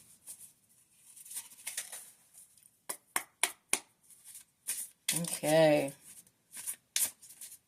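Oracle cards are pulled from a deck and shuffled close up, with quick crisp riffles and sharp flicks coming in bursts, interrupted by a short spoken word.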